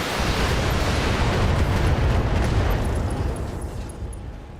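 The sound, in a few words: mech weapons firing and explosions in Battletech video game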